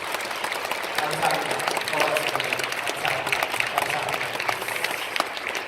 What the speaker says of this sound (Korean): 우리 다음 세대에게 환영하는 박수로